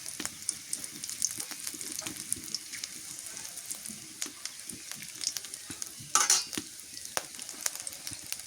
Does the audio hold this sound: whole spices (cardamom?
yes